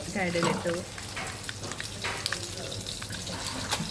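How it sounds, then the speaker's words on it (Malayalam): Mustard seeds and fenugreek sizzle and pop in hot oil while a yellow catfish mappas is cooked, a dense crackling fry with a voice speaking briefly over it near the start. "കടുക് പൊട്ടിക്കൊണ്ടിരിക്കുന്നു."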